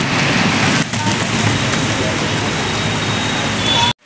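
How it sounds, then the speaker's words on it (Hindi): Heavy rain pours steadily around an auto-rickshaw in Dehradun, a loud, dense broadband wash of drops drumming nearby with a continuous hiss and low rumble, constant throughout before cutting off abruptly at the end. "भाई साहब इतनी खतरनाक बारिश हो रही है, ये देखो"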